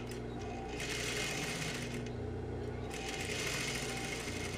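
A sewing machine stitches a second seam joining a tulle skirt to its base fabric, a steady whirring motor hum running continuously and fairly faint, with no talking.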